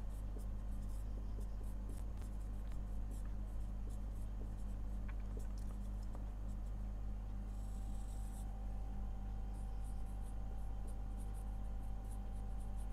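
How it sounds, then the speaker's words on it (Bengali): Chalk or marker writing out a finance formula on a board during an HSC capital budgeting lesson, steady scratchy strokes running throughout over a constant low room hum, with no one talking. "তো আমি তোমাদের সূত্রটা একটু লিখে দিই"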